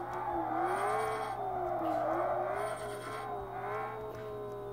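A car's engine revs high and wavers as it accelerates and its tires break loose in the drifting game Drift Hunters, with a sustained, smooth whine and a faint screech over a steady low hum.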